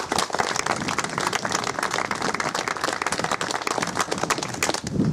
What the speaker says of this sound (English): please give a very big round of applause to Robert Halfon MP